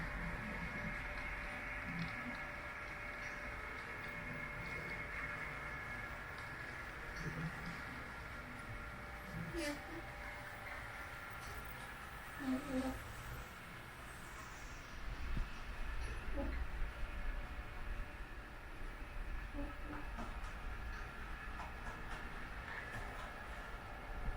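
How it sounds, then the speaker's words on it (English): Small model trains rumble steadily along a layout track with a constant mechanical hum and occasional light clicks, running continuously at a moderate distance. "leave this video with just some trains running here"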